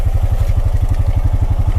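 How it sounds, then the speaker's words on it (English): A Pioneer 520 side-by-side engine idles close by in snowy conditions, a loud, even low-pitched chug pulsing rapidly and steadily with no talking. "I'm not going to shut the side-by-side off for fear of it not starting back."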